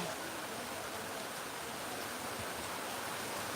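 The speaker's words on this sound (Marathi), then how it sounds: "जबरदस्त पाऊस" Heavy rain pours down in a rural village, a steady, even hiss of downpour throughout, fairly soft and with no voices.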